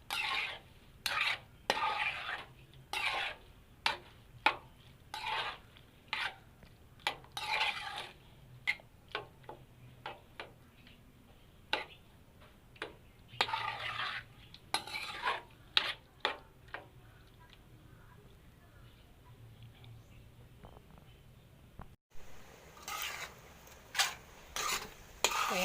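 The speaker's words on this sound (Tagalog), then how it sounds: "Halu-haluin lang natin siya mamaya hanggang sa mag-caramelize yung sugar" Jackfruit jam is stirred in a pan while its sugar caramelizes, giving repeated scraping strokes in an irregular rhythm with quieter gaps and faint bubbling between them.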